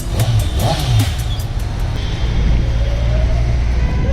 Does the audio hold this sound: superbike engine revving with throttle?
yes